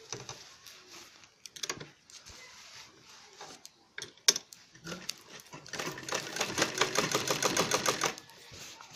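A sewing machine stitches fabric for a designer bag at home, with a few scattered clicks and handling noises first, then a sustained rapid rattling run of stitches that stops near the end.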